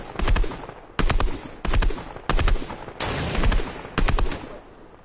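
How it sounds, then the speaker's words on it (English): Gunfire in the video game Fortnite comes in short rapid bursts, about six clusters of loud close shots roughly a second apart with brief gaps between them. "you're supposed to be shooting the one that's fucking alive"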